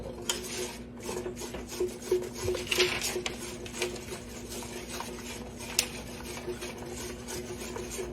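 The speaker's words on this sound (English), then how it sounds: "Stirring constantly. I'm stirring, y'all." Caramel cake icing stirred in a pot with a utensil, a steady rasping scrape against the metal with occasional clinks, moderately close and continuous.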